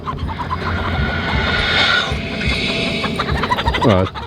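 Chickens cluck and squawk in agitation close by, with loud overlapping calls over a dense noisy background and a louder rising squawk near the end.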